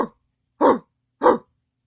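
A person imitates a dog's bark with their voice: three short, gruff, throaty barks in a quick even rhythm, close and alone with silence between them.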